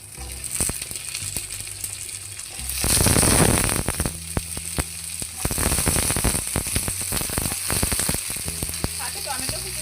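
Chopped vegetables tipped into hot oil for a vegetable dal, bursting into a loud hiss partway through, then crackling and sizzling on with scattered sharp pops and stirring clatter.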